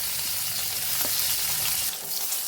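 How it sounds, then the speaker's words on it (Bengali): Eggplant pieces frying in mustard oil in a wok give a loud, steady, close sizzle that runs without a break for the whole short stretch. "এবার ওই তেলের মধ্যে আমি বেগুন কটা ভেজে নেব।"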